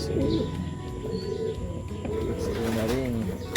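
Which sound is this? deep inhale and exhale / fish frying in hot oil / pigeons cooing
pigeons cooing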